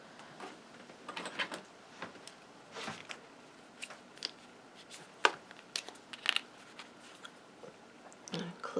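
Scissors snip card during a papercraft project, giving a series of short, sharp cuts and clicks spread irregularly across the clip, fairly quiet and close.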